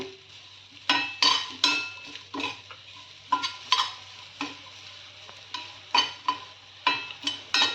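Chickpea and green pea sundal being stirred and sautéed in a pan, with repeated scraping strokes of a spoon against the metal over a soft steady sizzle, close and moderately loud, no talking.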